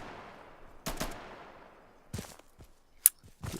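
Gunfire in the video game Insurgency: several sharp, loud gunshots ring out separately, one with a long decaying echo, followed by a tight double shot and single reports spaced irregularly.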